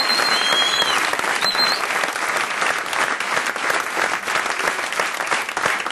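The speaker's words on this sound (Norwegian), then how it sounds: "en stor applaus for Trond Hansen" Audience at a Norwegian comedy show greets comedian Trond Hansen with loud, close, sustained clapping that fills the room for about six seconds, with a couple of brief whistles near the start.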